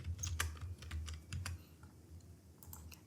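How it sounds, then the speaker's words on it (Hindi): Keystrokes on a computer keyboard while a name is typed into an Excel spreadsheet cell, a quiet run of irregular clicks over a low hum, faint and close, with no talk. "चलिए मैं यहाँ से लिखता हूँ रोहित"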